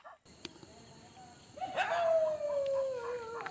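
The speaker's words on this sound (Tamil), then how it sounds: "நாய் சவுண்டும் கொஞ்சம் அதிகமாகவே கேட்குது." A dog howls in a long, wavering tone at a distance, with faint crickets and outdoor background noise.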